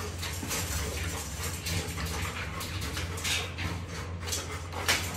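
A large golden retriever at a kennel in the Philippines pants in soft, rapid breaths and gives faint, intermittent whimpers up close, against low background noise.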